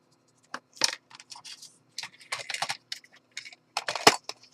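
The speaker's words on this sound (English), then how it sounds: "Cut this off." Scissors snip off a piece of paper for a handmade journal in a run of short, crisp, close cuts and rustles with brief pauses between them.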